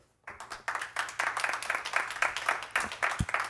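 Applause breaks out at a Board of Education meeting, a steady patter of many hands clapping from start to finish after a brief quiet opening, fairly close and moderately loud.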